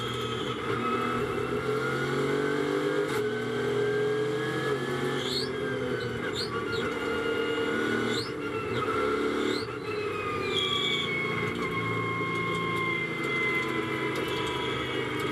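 Onboard a Mercedes GT4 race car at Paul Ricard in the GT4 European Series, the engine wails steadily at high revs with pitch rising through the gears and brief drops at shifts, under a constant rush of noise.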